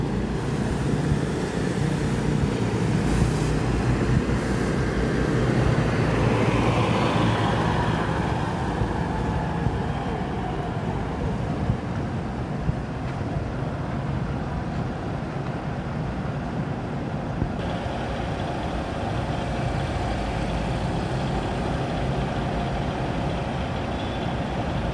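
Volvo 450 AP Euro 5 engine in a tronton bus, a steady loud rumble that runs without a break, with a rising whine partway through and traffic noise mixed in.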